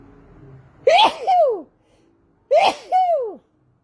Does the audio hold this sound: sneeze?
yes